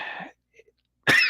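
A single harsh cough from a dry throat bursts out close and loud after a stretch of talk and near silence, ending the short segment.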